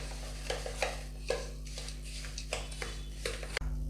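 Curd being stirred into oiled semolina for rava idli batter, a soft wet scraping and squelching in repeated strokes about every half second, close and moderately quiet over a steady low hum.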